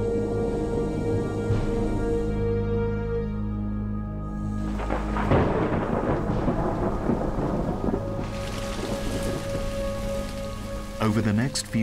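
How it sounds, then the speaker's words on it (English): A thunderstorm over the Mara catchment area in Kenya pours heavy rain while deep thunder rumbles and cracks, the downpour hissing steadily throughout with a loud clap midway. "storms drop heavy rain in the Mara catchment area"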